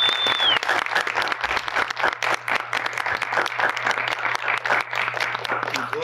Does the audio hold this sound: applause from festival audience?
yes